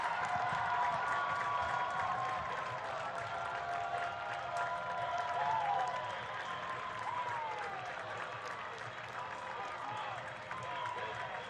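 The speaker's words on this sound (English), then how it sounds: "And the crowd loves it." Stadium crowd at a New York Red Bulls II versus Charlotte Independence soccer match cheering and applauding after a goal, a steady broad roar sustained throughout, with commentary talk running over it.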